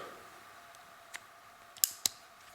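Scissors snip a Zippo lighter's wick, giving two sharp, close metallic clicks near the end after a fainter tick, against a quiet room.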